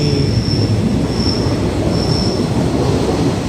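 A suburban Thai train from Mahachai slowing into a station, heard from on board: a loud continuous rumble of wheels on track with repeated high metallic brake squeals rising over it.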